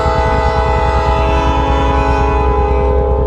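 A train horn blasts loud and steady right up close, its sustained chord holding for the whole stretch over a rhythmic low rumble of the passing train.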